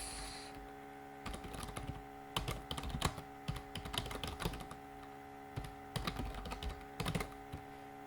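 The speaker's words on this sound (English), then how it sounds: "So now we type in here" Someone types on a computer keyboard in a quiet room. Bursts of close, crisp key clicks come in irregular clusters over a faint steady hum, with short pauses between runs.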